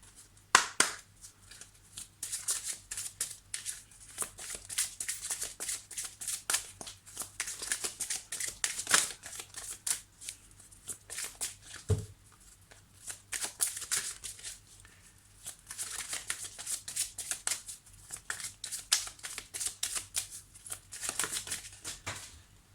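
Oracle cards being shuffled and drawn, with soft, irregular papery riffles, slides and taps coming close but fairly quiet, broken by brief pauses.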